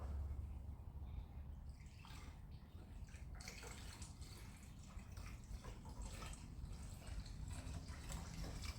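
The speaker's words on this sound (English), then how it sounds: "I got the coolant added" Coolant trickling and splashing into a 1983 Ford Ranger's cooling system, a steady low watery pour with scattered drips, fairly quiet and continuous throughout.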